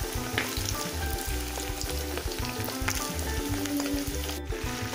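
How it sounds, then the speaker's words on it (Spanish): Chicken frying in hot oil in a pan, a steady dense sizzle and crackle throughout, close and continuous, with a low rhythmic rumble underneath. "En un sartén caliente vamos a colocar una cantidad suficiente para freír el pollo. Y ahora lo vamos a freír."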